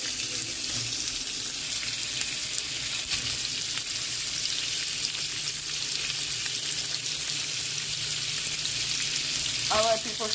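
Sausage frying in a little oil in a pan makes a loud, continuous close sizzle that holds steady throughout, with a brief clatter near the end.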